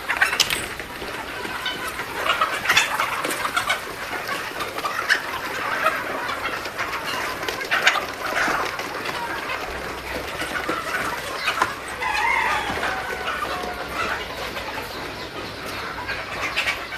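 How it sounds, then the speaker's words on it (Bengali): A flock of chickens raised on a poultry farm clucks and squawks continuously during morning feeding, a busy, dense chorus of overlapping calls with no voices. "এখন মুরগিকে খাবার দেওয়া হচ্ছে।"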